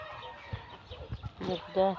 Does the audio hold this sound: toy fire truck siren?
no